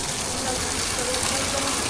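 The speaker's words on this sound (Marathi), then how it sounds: "पाणी टाक काचावर" Water, soapy from shampoo, is poured from a bucket onto a car windshield during a wash, making a continuous close splashing gush for the whole moment with no talk.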